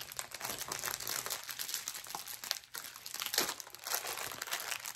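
Tape being pulled and pressed onto a package while unboxing a craft supply order, giving several seconds of close, steady crinkling and crackling with brief rips and no talk.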